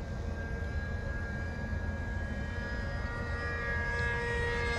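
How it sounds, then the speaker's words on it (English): A steady, distant jet airplane roars overhead as a continuous broad rumble with faint high whine, fairly quiet and uninterrupted, with no voices. "It's another one of those invisible airplanes that matches the sky."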